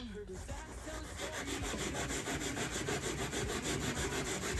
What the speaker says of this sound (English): So I'm cleaning it along and wiping it as I am filing.